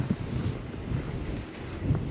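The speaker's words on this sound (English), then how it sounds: "it's gonna be a windy day" Wind buffeting a microphone outdoors, a low rumbling gust with a soft steady hiss, no voices.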